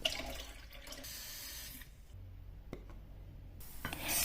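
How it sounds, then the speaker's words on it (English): Half a cup of rice is washed in water, with running faucet water and splashing that stop and start in short bursts, close and fairly quiet. "I measure in half a cup of rice, giving it a good wash and soaking in very little of water."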